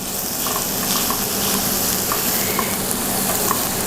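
Chopped onion and garlic fry in oil for bacalhau fritters, making a steady, close sizzle with a soft hiss that runs evenly through the clip. Occasional small pops and stirring clicks sound over it, and no one speaks.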